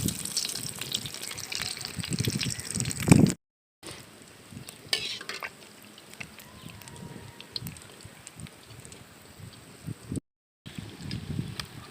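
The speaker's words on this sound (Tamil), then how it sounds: "இப்போ எண்ணெய்க்குள்ளே சிக்கனை போட்டுக்கலாம்." Chicken coated in crushed Lays chips frying in hot oil, with a loud bubbling splash at first, then a continuous crackling sizzle, broken by two brief silent gaps, with no talk.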